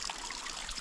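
Snowmelt water trickles and splashes out just above a mountain road near the snow line, a brief, close, continuous babble.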